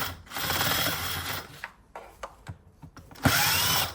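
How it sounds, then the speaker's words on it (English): Screws being backed out of the air filter housing of a Mini Cooper R56 with a T30 Torx driver, a steady whirring tool run that stops, then a few short clicks and scrapes before the whir resumes, close and loud. "With a T30 Torx, we're going to take out these screws that hold"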